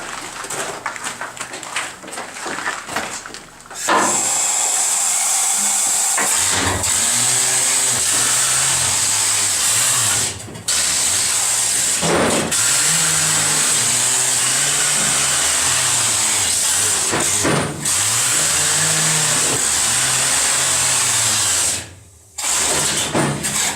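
Loud, continuous mechanical roar with clanking and grinding from a mucking machine running steadily at close range in a silver mine, broken by a few brief pauses.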